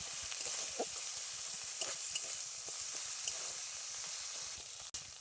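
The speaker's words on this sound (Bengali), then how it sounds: "এই যে রসুন বাটা, আদা বাটা, এটাকেও খুব ভালো করে একসাথে ভেজে নেব।" Ginger and garlic paste fries in a pan while crab is being cooked, giving a steady close sizzle with occasional soft stirring scrapes and taps and a sharp knock near the end.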